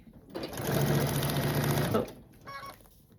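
Close sewing machine stitching scrappy quilt pieces together along a marked line, a loud, steady rapid whir for just over a second, then a brief shorter burst after a pause.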